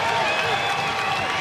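Crowd applause and scattered cheers fill an arena during a college wrestling match between Oklahoma State and Oregon State, a steady dense roar with a commentator talking over it.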